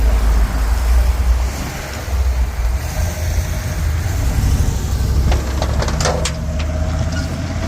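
A truck rumbles steadily with a loud low engine drone, and a few light metallic clanks ring out near the end.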